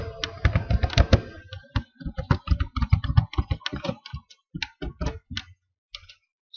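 Close, crisp typing on a computer keyboard while entering a task heading, a quick irregular run of key clicks that slows and thins out before stopping.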